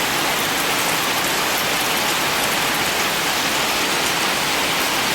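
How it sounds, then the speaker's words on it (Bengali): Heavy rain pours steadily, a dense, even hiss of drops striking surfaces close by, continuous throughout with no voices. "সেরকম বৃষ্টি পড়তেছে।"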